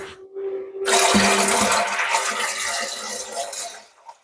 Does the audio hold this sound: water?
yes